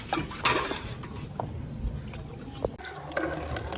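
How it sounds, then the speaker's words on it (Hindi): Water poured into a pot of well-fried masala for cooking rice, a steady close splashing fill with a few brief clinks of the pot over a low background hum. "अभी मैं ना पानी लगा देती हूँ इसका"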